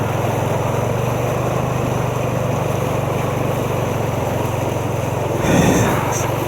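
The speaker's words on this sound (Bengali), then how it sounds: "গাড়িটা স্টার্ট হয়ে গেল আবার" A vehicle engine runs steadily and loudly after restarting on a flooded road in Haldia, a constant droning hum with a brief swell near the end.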